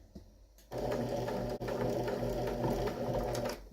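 A sewing machine stitches onto a fabric mat in a short, steady run of rapid mechanical whirring, close and fairly loud, starting abruptly after a quiet moment with one brief hitch midway.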